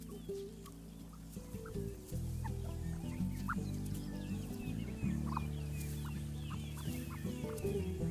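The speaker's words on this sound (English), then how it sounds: "These hungry chicks won't stop foraging." Chicks forage on green grass, and their soft clucks and short peeping calls repeat continuously and close by, with several birds calling at once over a low background.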